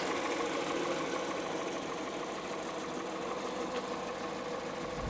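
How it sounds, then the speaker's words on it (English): A Peugeot car engine with 56,000 miles runs steadily at idle, a continuous mid-pitched hum with slight knocking texture, close and alone for the whole stretch. "Engine seems to be working fine."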